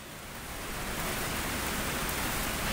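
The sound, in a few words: rain falling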